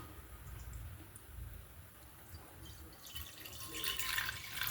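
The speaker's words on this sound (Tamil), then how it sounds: "அந்த கரும்பு ஜூஸ் இதில் விட்டுக்கலாம்" Sugarcane juice poured into a pan on the stove for halwa, heard as a steady trickling liquid that grows louder and brighter toward the end, with no talking.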